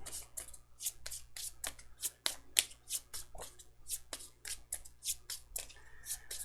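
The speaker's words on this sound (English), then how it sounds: "And then we have to shuffle his 2 tyrant cards in." Tyrant cards being shuffled into a deck during a Too Many Bones board game, a rapid series of crisp riffling bursts and taps repeating close up over a low steady hum, no voices.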